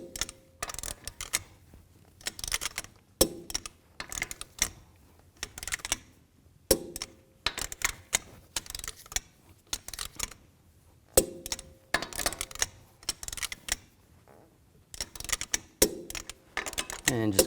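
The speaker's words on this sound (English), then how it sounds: "Now I'm going to torque these lug nuts to 110 foot-pounds in a star pattern to tighten the wheel" A torque wrench tightens the lug nuts on the rear wheel of a 2013-19 Ford Police Interceptor Utility in a star pattern, making a series of sharp, close clicks in repeated bursts with pauses between nuts.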